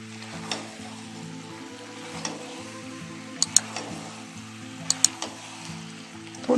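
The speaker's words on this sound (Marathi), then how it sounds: "गॅस फुल करून आपल्याला हा सगळा सॉस या पीसमध्ये पूर्ण मुरवून घ्यायचा आहे" Chili chicken stir-fried in its sauce in a full kadhai over a high gas flame gives a steady close sizzle, with a few sharp clicks of the spoon and faint tonal music underneath.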